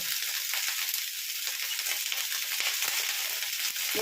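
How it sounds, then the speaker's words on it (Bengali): Cauliflower pieces fry in oil in a pan with light salt, giving a steady, close hiss and crackle that runs for the whole stretch, with a few soft stirring ticks underneath and no talking. "অল্প একটু নুন দেবো দিয়ে ভাজা ভাজা করে নেবো"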